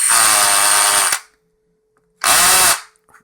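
A cordless lithium-ion power drill whirs loudly in two separate bursts, each about a second long and separated by a short silence, with the motor spinning down sharply at the end of each burst.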